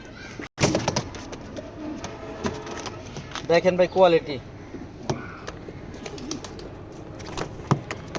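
A male Sumo-line racing pigeon bred in 2016 is let go, with a sharp burst of wing movement early on and soft cooing midway, heard close amid someone talking.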